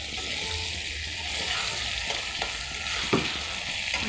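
Potatoes frying in hot oil in a home kitchen, with a steady broad sizzle and occasional scraping stirs, one sharper clack near the end, close and continuous with no voices.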